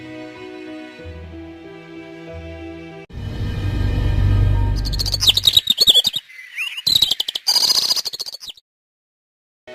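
A parrot chirps and tweets in a quick series of bright calls within a forest scene beside a woodcutter, following a low droning musical passage and a rushing whoosh.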